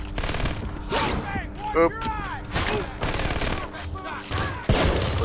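Bursts of gunfire in the stealth shooter Splinter Cell Conviction, several rapid volleys mixed with chirping game effects and a brief spoken word in between.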